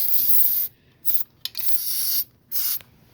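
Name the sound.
spraying lubricant on a seat mechanism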